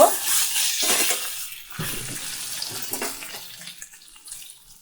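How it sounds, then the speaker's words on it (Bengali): Water pours into a pan of fried beetroot curry, a bright splashing rush that is loudest at first and then fades into a soft, settling bubble. "এটা একটুখানি জল দিয়ে দেব"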